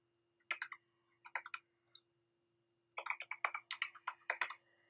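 Keys on a computer keyboard clatter in quick bursts as login credentials and a password are typed, with short pauses between runs of close, crisp clicks.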